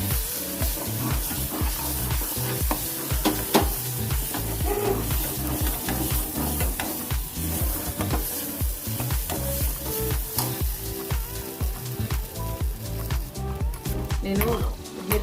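Stuffed brinjal fries in oil for a South Indian curry, a steady close sizzle with frequent clinks and scrapes of stirring running through the whole stretch.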